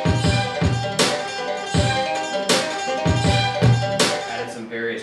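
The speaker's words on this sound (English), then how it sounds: "you got the sample, the clap loop, the kick, and the snare, and that sounds like this" Hip hop beat with punchy kicks, sharp snare and clap hits over a looped melodic sample, steady rhythmic groove, loud and full.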